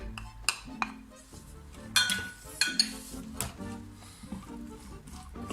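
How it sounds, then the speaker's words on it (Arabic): A utensil clinks and scrapes against a pan as a large onion is stirred with oil, salt and spices. The knocks are sharp and intermittent, with a soft background, and no talking is heard. "غادي نشحروها فيها مزيان مع شويه د الملحه والابزار فقط، ما نستعملوش الثوم"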